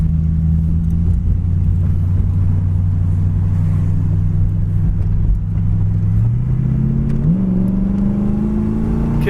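1936 Ford five-window coupe driving along, its engine a loud steady low rumble with a sustained drone that rises in pitch near the end as it speeds up, no talking.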